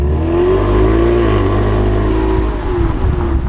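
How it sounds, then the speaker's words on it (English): A Ford EcoBoost turbo car engine hums loud and steady while driving through suburban streets, its tone rising and easing slightly as it pulls along, with no voices present. "Now I'm punting the EcoBoost around some suburban streets, trying to show you and let you listen to what the car sounds like"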